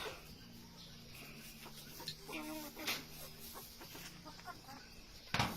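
Darag native chickens on a rural Philippine farm give soft, intermittent clucks at moderate distance, with faint voices in the background.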